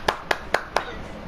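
Four sharp hand claps in an even rhythm, close and loud, heard over a voice chat during a Fortnite Deathrun game, then the sound fades out.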